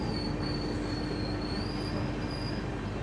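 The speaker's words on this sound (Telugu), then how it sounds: "తిరుత్తనికి మన ట్రైన్ ప్లాట్ఫామ్ 1కి అయితే వచ్చింది" The MGR Chennai–Mumbai LTT SF Express rolls into Tiruttani station with a sustained high wheel squeal over a steady rumble of railcars, close and continuous, with no voices.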